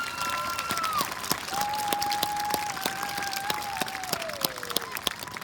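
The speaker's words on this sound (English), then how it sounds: "Let's give them a round of applause." Scattered clapping rises at a school Veteran's Day assembly, a thin applause from the gathered audience with a sustained ringing tone running through it.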